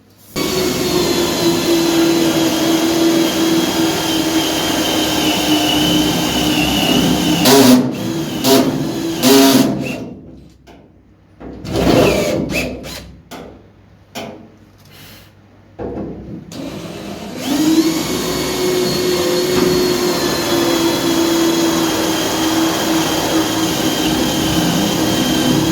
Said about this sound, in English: we've got them spot welds drilled out from inside